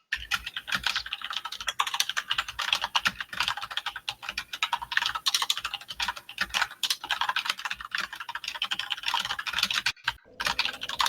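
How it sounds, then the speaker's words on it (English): Loud computer keyboard typing picked up by a sensitive microphone: rapid, continuous clattering keystrokes close to the mic, with brief pauses and one short gap near the end, and no voices. "God damn, your keyboard is loud."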